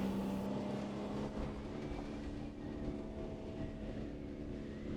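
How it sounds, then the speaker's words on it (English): An off-road vehicle pushes through soft desert sand, its engine a steady droning rumble with a constant low tone, held at an even level throughout with no talking. "This will boost the vehicle and jump forward over the soft patch."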